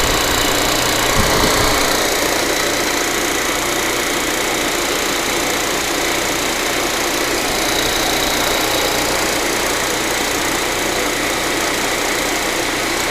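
Refrigerant recovery machine pumping Freon out of a Sub-Zero 22IM ice machine into a charging column, a loud, steady mechanical drone with a constant motor hum running throughout.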